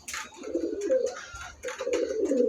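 Pet pigeons coo nearby in soft, throaty repeated calls, overlapping and continuing without pause.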